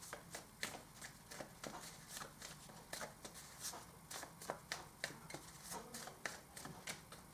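Oracle cards shuffled by hand in a quiet room, giving a steady run of soft, close riffling taps and flicks at a fairly low level, with no talking.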